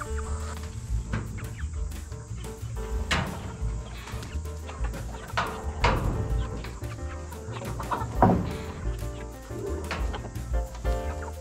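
Chicken clucking outside farm fencing, where it paced all night, repeated short clucks at moderate distance over steady low rumbling background noise.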